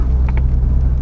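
A car drives uphill along a winding road of S curves, its engine a loud, steady low rumble close by, with no voices over it.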